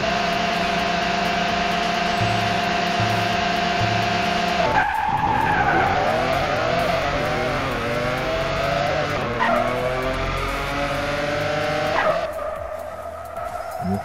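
Drag race cars in the video game DragBattle cars rev and launch with long, loud screeching tire skids, engines whining up through gears as the squeal sweeps and fades, continuing steadily for over ten seconds with no talk.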